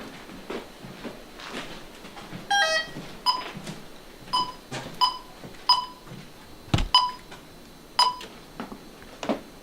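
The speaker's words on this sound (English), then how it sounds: "So the door is closed, you can hear the alarm beeping." A door alarm panel in a cabin beeps with short, sharp electronic tones repeated at a regular pace, clear and close, with a few quieter knocks and handling sounds between the beeps and no talking.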